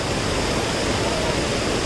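Steady broadband rush of water pouring at a hidden waterfall, a dense continuous roar close by with no breaks, filling the whole short stretch.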